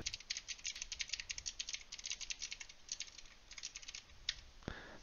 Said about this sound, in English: So let me type that out real quick.